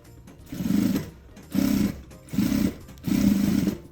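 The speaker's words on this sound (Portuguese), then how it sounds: "E aqui na voltinha, vai costurando devagar pra voltinha ficar redonda" A sewing machine stitches slowly around a curve on a fabric maternity bag, running in four steady whirring bursts of under a second each with brief stops between, close and clear.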